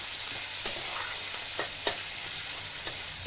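Onions sizzle steadily in hot oil on a low flame, a constant frying hiss broken by a few sharp scrapes and knocks as a utensil stirs them in the pan.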